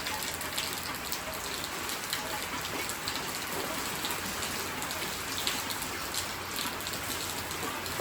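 Steady rain pours down on a village farm field where buffaloes are kept, a dense continuous hiss of drops hitting the ground and surfaces, close and unbroken throughout with no voices.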